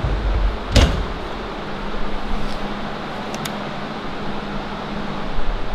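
Doors of a HAAS CNC machine closing with one sharp knock early on, then a steady mechanical hum and whir as the machine warms up.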